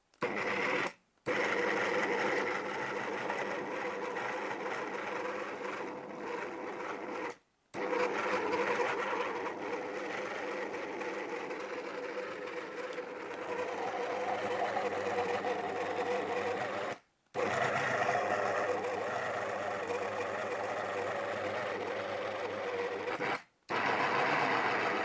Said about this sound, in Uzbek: Choperimizni maydalab olamiz.